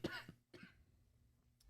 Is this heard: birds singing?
no